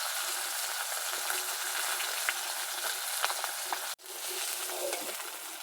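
Katla fish pieces fry in oil, giving a soft, even hiss of sizzling with scattered pops throughout, heard fairly faint and close, with a brief break near the end.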